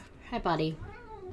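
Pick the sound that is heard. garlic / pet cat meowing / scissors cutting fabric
pet cat meowing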